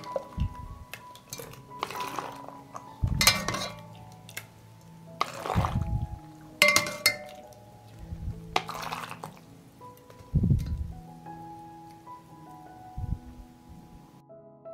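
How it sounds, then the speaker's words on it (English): Hot dressing is poured into glass jars, with repeated clinks of glass and metal and soft splashing between them. "I immediately pour this hot dressing into the jars."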